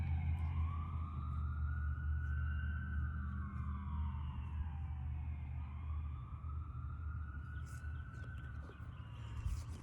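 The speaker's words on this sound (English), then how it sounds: "Ambulance." A wailing ambulance siren rises and falls in long sweeping tones over heavy low rumble and outdoor background noise, fairly loud and steady across the whole stretch with no talking.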